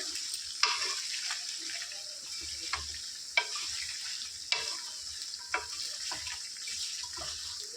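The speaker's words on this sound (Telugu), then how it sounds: "వీటిని ఇప్పుడు ఆయిల్లో గోల్డెన్ బ్రౌన్ కలర్ వచ్చే వరకు ఫ్రై చేసుకోవాలి" Chicken pieces frying in oil until golden brown, a steady close sizzle with occasional sharper spits and pops scattered through it, and no talking.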